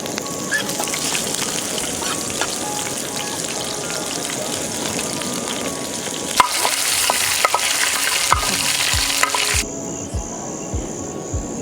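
Duck pieces fry in a pan until golden brown, a close, steady sizzle and crackle that swells louder partway through, with a few soft knocks, before dropping to a quieter hiss.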